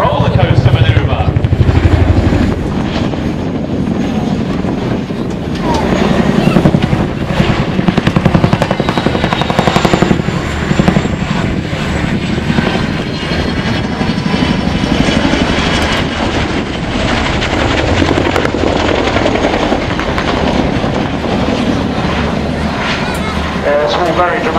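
RAF Chinook twin-rotor helicopter flying a roller coaster manoeuvre at the Waddington air show, a loud continuous rotor and engine roar with rising and falling swells throughout.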